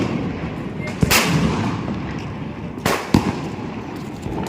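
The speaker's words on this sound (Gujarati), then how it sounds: "ગજબ ફટાકડા ફૂટે છે," Diwali firecrackers burst outside a residential society. Two sharp, loud bangs stand out about two seconds apart over a continuous crackling din of more distant fireworks.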